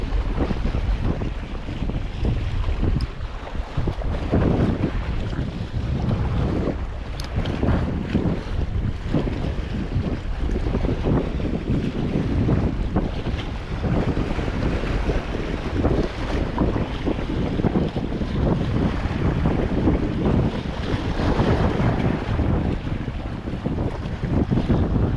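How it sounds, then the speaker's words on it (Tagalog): Strong wind buffets the microphone outdoors on the water during a fishing trip, a constant loud rushing roar with gusty low rumble and splashing wave noise, no voices. "Mahangin nga lang talaga."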